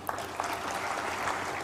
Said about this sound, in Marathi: या ठिकाणी सर्वांना टाळ्या वाजवायला लावल्या